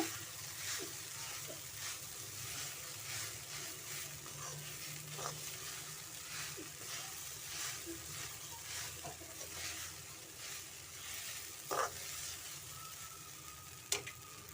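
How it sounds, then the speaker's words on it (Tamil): Flattened rice (poha) being roasted and stirred in a pan, a steady soft sizzling hiss with occasional scraping clicks and taps throughout, no talking. "அவுளை நல்லா வறுத்துடுங்க ஒரு அஞ்சு நிமிஷம்"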